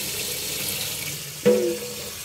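Tap water running steadily into a pot while raw rice is washed, a continuous hiss with a brief louder splash and gurgle near the end.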